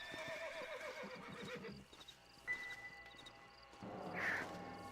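Horse in the video game Red Dead Redemption neighing, a loud quavering whinny up close followed by scattered hoof clops and another high cry, with no talk.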